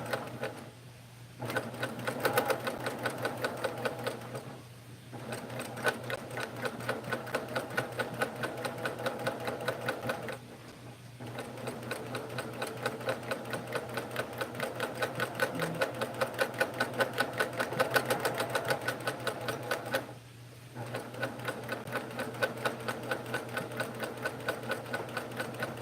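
A sewing machine stitching free-motion quilting lines around very small fabric pieces runs in long, steady buzzing bursts of rapid needle strokes, stopping briefly three times between runs, close and alone with no talk.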